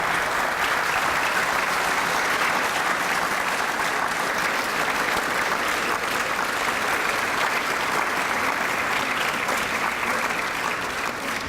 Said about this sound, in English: can I please ask you all for another round of applause